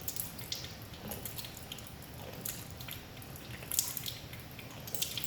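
Metal sphere and ring from a physics demonstration being dunked in water to cool, giving soft continuous bubbling and dripping with faint splashes throughout, no talking.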